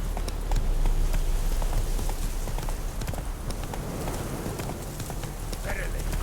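Horse hooves clip-clop at a run in The Witcher 3 video game, a steady close rhythm of hoofbeats continuing throughout under game music and ambience, with brief voice in the mix.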